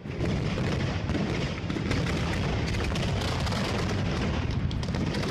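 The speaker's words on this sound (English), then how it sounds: "You get a bang when the mortar fires, and then a bang when the shell explodes." Dense, continuous rumbling booms and crackling blasts overlap without pause, like a barrage of firework shells being launched and bursting.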